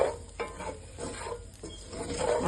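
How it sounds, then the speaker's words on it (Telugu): Plantain curry being stirred in a pan, with soft scraping strokes and a light sizzle repeating at a steady rhythm, close and fairly quiet, no talk. "ఇప్పుడు చక్కగా మిక్స్ చేసేసి"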